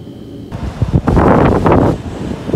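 Strong wind roars through an open hotel window with heavy surf breaking beyond, coastal Hamada City in Shimane; a quieter start swells into a loud, sustained gusty rush that fades slightly near the end.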